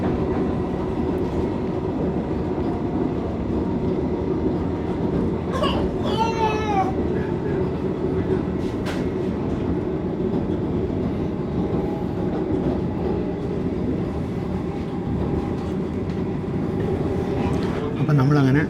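Vande Bharat Express chair car rolling and easing its speed for a restriction on the link line before the Bharathapuzha bridge near Shoranur: a steady, loud rumble with wheel clatter throughout, and a voice talking briefly over it.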